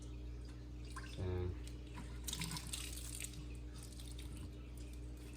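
Hot water runs from a kitchen tap to rinse almond milk making equipment, a steady, moderately loud stream with a brief louder gush near the start, accompanied by faint handling sounds and no speech.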